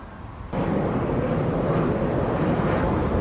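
An airliner takes off at Montego Bay's Sangster International Airport, a dense, steady jet roar that surges in abruptly and holds loud and unbroken.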